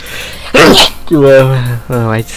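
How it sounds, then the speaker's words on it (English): A single loud, close sneeze bursts out, followed by two drawn-out vocal sounds. "I'm starting to sneeze, guys."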